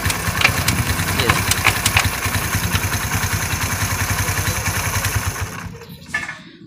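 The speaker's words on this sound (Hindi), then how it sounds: "ये देखें गियर शिफ्टिंग हो रही है" A motorcycle engine runs loud and close with a steady rapid mechanical clatter as gears are shifted and the wheel spins, then cuts off abruptly near the end, leaving brief quiet.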